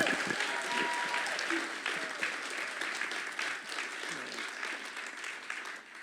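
Audience applause at the Family First National Conference in Sydney, a steady, moderately distant patter of many hands clapping that carries on evenly for several seconds.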